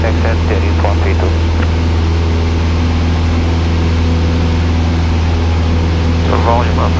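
Cessna 172 engine at takeoff power, a loud steady propeller drone filling the cabin, with faint radio chatter breaking in briefly near the start and end.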